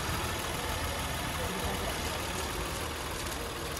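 Car engine idling at a car market, with the hood opened on the engine side, heard as a steady broadband rumble, close and constant throughout.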